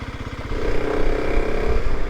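Motorcycle being ridden on the road, an engine pulsing rhythmically at idle before picking up into a steadier loud drone with wind, close and without talk.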